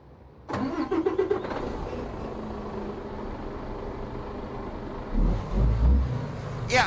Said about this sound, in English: let's climb into the truck, get her fired up, and let's get going